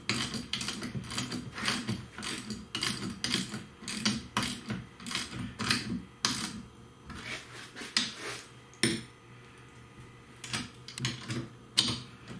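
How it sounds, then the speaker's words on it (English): A 7/16 wrench and ratchet tighten a fastener on a Pelican PWR Catch 100 kayak, giving quick rapid clicking bursts broken by short pauses, close and moderately loud with no talk. "This tightens up with a 7/16 wrench and a ratchet."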